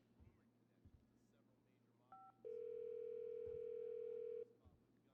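A telephone dial tone in GTA Online: two short stepped beeps, then a loud steady tone held for about two seconds over quiet background murmur.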